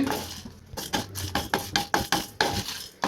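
Coriander and fennel seeds dry-roast in a pan, stirred in a quick series of scraping, rattling strokes, close and fairly quiet with no voices.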